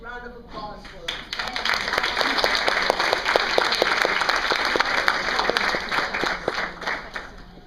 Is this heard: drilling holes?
no